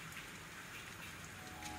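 Steady, soft rain falls continuously with a dense hiss of drops on surfaces, low in level and unbroken.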